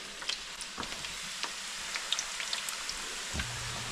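Meatballs and garlic frying in a big pan of hot oil at about 350 degrees, a soft, steady sizzle with scattered small pops and crackles, no talking.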